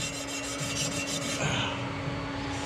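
Turbo header runners for an S2000 are polished before welding, producing a steady, close abrasive rubbing and rasping that runs continuously at moderate loudness.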